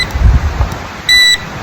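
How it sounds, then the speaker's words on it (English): A metal detector set to maximum sensitivity gives a single long, steady high-pitched beep lasting about a quarter second, clear and close over low handling noise, no talk. "if you turn it up, then you get that long beep at the end"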